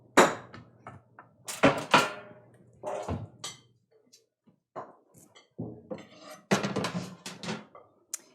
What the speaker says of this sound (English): Okay, grab one more sheet pan.